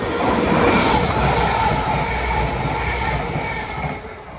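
Two coupled Class 158 diesel units on a Birmingham International to Aberystwyth service passing through Sandwell & Dudley station, a loud, steady rumble of engines and wheels on rail that eases slightly toward the end, with no talking.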